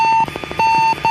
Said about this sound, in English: You can hear the beeping of the radio beacon on the Soyuz